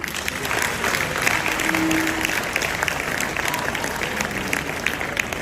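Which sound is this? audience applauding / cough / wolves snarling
audience applauding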